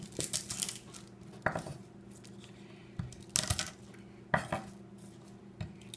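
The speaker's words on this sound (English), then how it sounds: "I'm then going to crush my garlic cloves" Garlic cloves being crushed for salsa, four or five sharp, loud knocks and crunches against a hard surface, spaced about a second apart with quieter scraping between them.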